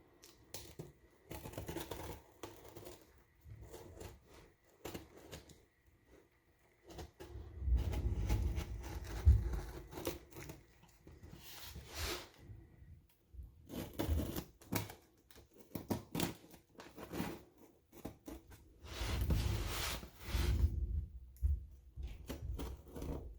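Morphe 5-piece face brush set with bag being unboxed from its Sephora package: irregular crinkling, tearing and handling noises come in bursts over about twenty seconds, close and moderately loud, with quiet gaps between them.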